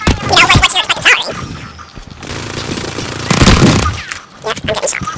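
Gunfire in the Call of Duty Warzone video game, loud bursts of rapid automatic shots and scattered single cracks in a close firefight, with a voice talking over parts of it.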